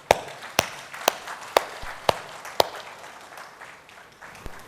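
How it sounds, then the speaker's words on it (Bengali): Award night audience clapping in a few sharp, separate claps spaced about half a second apart, moderately loud in a hall, then fading to quiet room tone. "আরেকবার করতালি দেবেন।"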